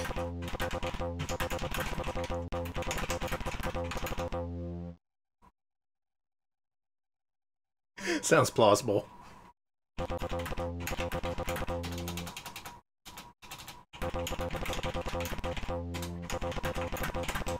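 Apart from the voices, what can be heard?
typing sound effect in PC cartoon-making software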